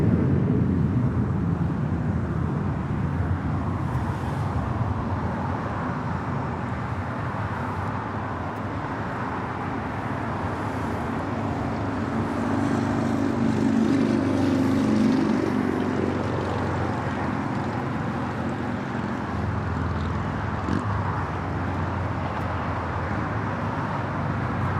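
A Boeing 747-400 freighter lines up for takeoff on a runway at LAX. Its jet engines hold a steady, distant roar with a faint whine, mixed with a low background rumble from the airport, and nobody speaks.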